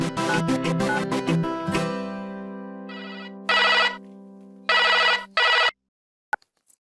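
A telephone rings in a television drama, first a bright melodic ringtone, then a few separate electronic ring bursts with gaps between them, ending in near silence with faint clicks.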